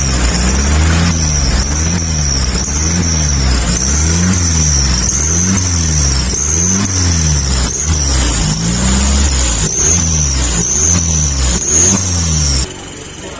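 A Mitsubishi Colt Canter truck fitted with a fake turbo revs repeatedly: loud, close rhythmic engine surges rise and fall about every second, with a constant high-pitched turbo-like whine on top and no talking.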